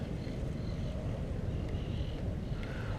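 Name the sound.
wind blowing across the beach while flying a four-line kite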